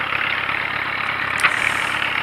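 A Ford 8N tractor engine runs steadily at a low rumbling idle-like drone in a wet field, continuous and moderately loud with no talk.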